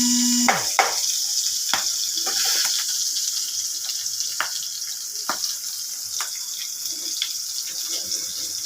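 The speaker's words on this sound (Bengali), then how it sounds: "কাঁচা লঙ্কা পেঁয়াজ দিয়ে দিলাম, ভালো করে ভাজা হোক।" Green chili and onion hit hot oil with a bay leaf in a pan for an atop rice dish, giving a steady sizzle punctuated by sharp scraping stir clicks, with no talking.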